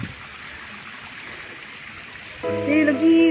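A river flows steadily along a hiking trail, a constant broad hiss of rushing water, before a voice cuts in near the end.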